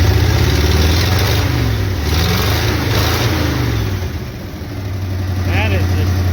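A tired, worn-out 350 engine running in a car, a steady low rumble close by with a slight dip and recovery in its note, while people talk over it.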